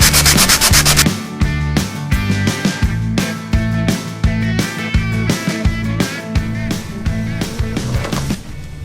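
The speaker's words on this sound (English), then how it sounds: "So we're just gonna sand that to get it off." A painted wooden dresser is hand sanded with rapid, rhythmic back-and-forth scraping strokes, loud and close, continuing steadily throughout.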